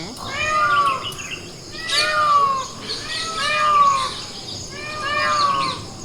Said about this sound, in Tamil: எப்படி மயில் கத்துற சவுண்டு நல்லா இருந்ததுங்களா?